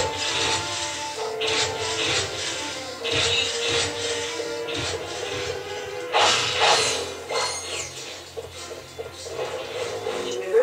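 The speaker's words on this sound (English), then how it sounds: "Hit square to use your wrench." Omni Wrench 8000 strikes in Ratchet and Clank: Going Commando on Planet Aranos, a run of repeated scraping, whacking hits layered over a steady game music bed, with no voices.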